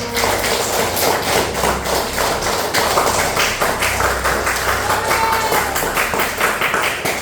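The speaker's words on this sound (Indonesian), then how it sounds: "Oke, tepuk tangan dulu." Classroom applause with dense, loud clapping from many hands, a fast, steady patter of sharp taps that carries on throughout without fading.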